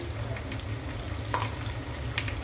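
Garlic paste goes into a hot frying pan with sliced green chillies and salt, giving a steady close sizzle with light stirring scrapes over it, alone with no voices.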